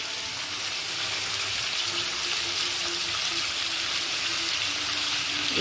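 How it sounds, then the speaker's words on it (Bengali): Mutton sautéing in a pan with salt and turmeric, giving a continuous loud hiss and sizzle with no pauses and no speech. "এবার এটাকে কষানো হবে ভালো করে।"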